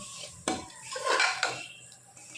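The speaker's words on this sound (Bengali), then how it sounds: "এবার পুরো মশলাটা ভালো করে চিকেনের সাথে মিশিয়ে নেব।" Spice masala being stirred into chicken in a pot while making a thin chicken curry with papaya, with clattering spoon-on-metal scrapes and knocks, one sharp clank early, close and moderately loud with no talk.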